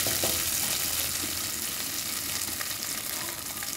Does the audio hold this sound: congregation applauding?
no